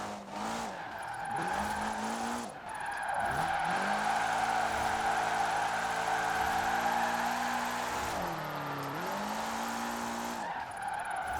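A car in Forza Horizon 4 held at full throttle, its engine note climbing and dipping through gear changes with clear harmonic whine, alongside steady tire skidding and squeal.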